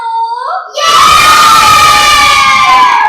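A group of classroom children shouting loudly in unison on cue, a sustained, chanted group yell that follows a brief adult voice.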